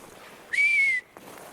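A single clear, human-like whistle rings out outdoors, a sustained bright tone lasting about half a second that rises slightly and then eases down, loud against a quiet background.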